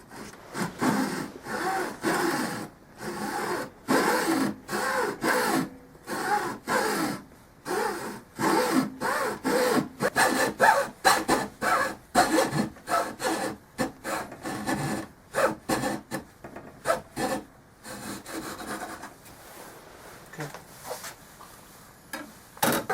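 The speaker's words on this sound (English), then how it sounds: "what I'm going to try to use is a hacksaw" Hacksaw cutting a piece for a DIY fold-up pistol stand: rapid back-and-forth rasping strokes in quick rhythmic bursts, close and fairly loud, with no voices.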